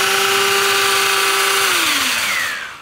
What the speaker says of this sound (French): C'est une ponceuse qui enlève beaucoup de matière